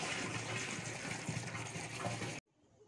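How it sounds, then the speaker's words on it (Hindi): Water runs from a tank into a container in a steady, loud rushing stream, heard close up, then cuts off abruptly near the end and leaves a quiet background. "मैं टंकी पे जा रही हूँ, पानी भर लेती हूँ थोड़ा"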